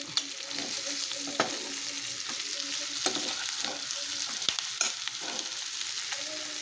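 Coriander and curry leaves hit hot oil in a pan of chicken fry, giving a steady, moderate sizzle with occasional sharp clinks and scrapes of a spoon stirring.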